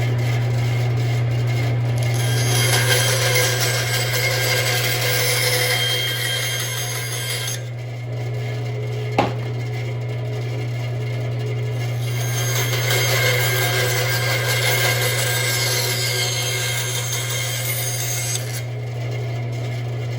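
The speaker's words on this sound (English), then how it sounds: "And now we're going to go over to the bandsaw." A woodworking bandsaw hums steadily while cutting wood pieces, a constant low motor drone under a rough rasping blade noise that swells and fades through several passes, with one sharp click midway.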